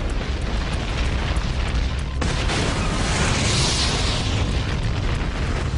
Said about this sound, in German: Die Kraft der Explosion reicht aus, um den Tank zu zerreißen.